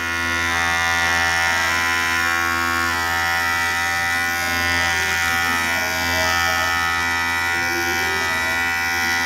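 A Kemei electric hair clipper buzzes loud and close with a steady high-pitched hum while cutting hair, staying constant throughout with no talking.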